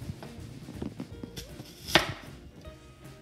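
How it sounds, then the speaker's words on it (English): An onion having its ends chopped off with a knife on a cutting board for salsa, giving a few dull close-up knife strikes with one sharper cut standing out in the middle. "just chop off the ends"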